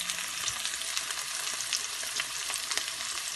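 Garlic and onions for paella sizzle steadily in a pan, a dense close crackle with small pops and faint stirring, no voices.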